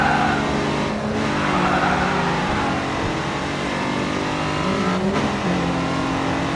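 Racing cars in GRID 2 roar at close range, engines revving loudly and continuously with tire squeal and skidding as they drive the racing line, no talk.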